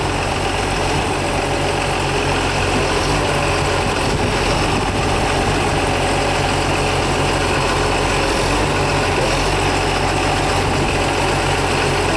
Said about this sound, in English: Going to raise the machine up and down here so you can see any slack.